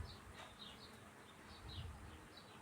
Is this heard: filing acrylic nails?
no